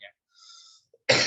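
A single sharp cough near the end, loud and close, following a few quiet fragments of sound in an otherwise silent room.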